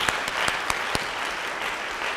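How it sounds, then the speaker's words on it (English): An awards ceremony audience for the 2021 Noble Public Schools Foundation claps together in a steady, dense round of applause, with a few sharper individual claps standing out early on. "So can we please just take a moment to give them a round of applause"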